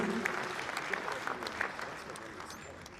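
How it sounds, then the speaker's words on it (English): Audience applause for the chairman of the National Council for Civic Education and Democracy at an electoral dialogue conference in Freetown, Sierra Leone, a moderate patter of claps with faint voices beneath, slowly tapering. "Una low clap for the chairman"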